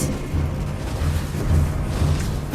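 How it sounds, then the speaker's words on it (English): Turret being destroyed in the Mobile Legends game, a continuous rumbling explosion with booming low tones that sustains at steady loudness under layered game effects. "Your team destroyed a turret!"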